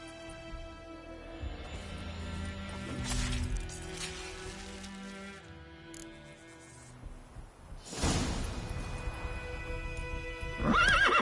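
A horse in The Witcher 3 whinnies loudly twice with hooves clip-clopping between, then a third neigh starts at the end; no talking.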